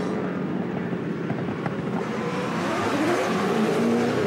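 A 2007 V8 Supercar pulling out of the pit lane at Oran Park, its engine a steady, loud roar that swells toward the end, with no voice over it.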